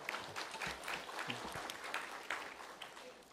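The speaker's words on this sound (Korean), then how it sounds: "나오실 때 박수로 크게 환영해 주시면 고맙겠습니다." A church congregation applauds to welcome a pastor to the front: a soft, steady patter of many hands clapping at a distance, with a voice faintly audible underneath.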